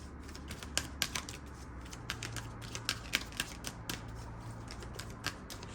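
Tarot cards are shuffled by hand, producing a string of quick, crisp riffling clicks and snaps in irregular bursts under a faint steady background hum.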